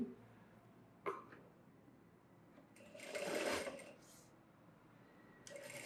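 A domestic sewing machine stitches a folded strip of saree fabric for a blouse belt, one steady run of rapid needle chatter in the middle of a quiet room, with small handling knocks before and after.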